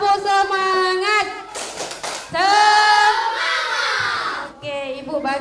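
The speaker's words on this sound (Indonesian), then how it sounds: "Coba tepuk semangat." A school class in Indonesia performs a rhythmic 'tepuk semangat' cheer, with children's voices chanting in unison and a burst of brisk group clapping in the middle, then the chant resumes loudly and ends in a short shout.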